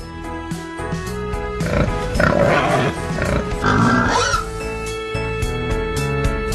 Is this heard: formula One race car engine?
no